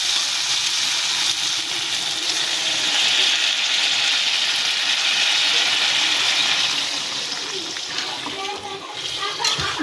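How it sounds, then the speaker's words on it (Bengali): Water poured into a pan of Kashmiri aloo dum with boiled potatoes and stirred, a steady loud splashing hiss that runs close and continuous with voices over it. "সামান্য পরিমাণ জল দেবো"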